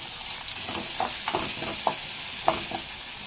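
Steady oily sizzle of crushed garlic frying in oil, with light clinks and scrapes of stirring, close by and without talk.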